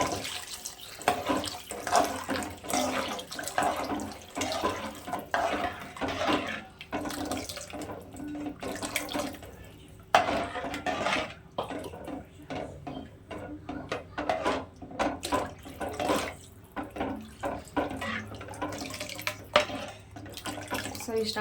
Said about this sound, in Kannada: ಸೊ ಇವಾಗ ಇದಕ್ಕೆ ನೀರು ಹಾಕ್ಕೊಳ್ತೀನಿ ನಮ್ಗೆ ಎಷ್ಟು ಬೇಕಷ್ಟು